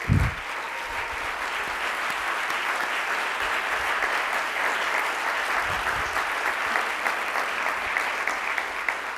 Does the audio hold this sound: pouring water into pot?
no